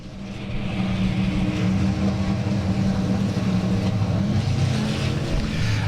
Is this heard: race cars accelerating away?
yes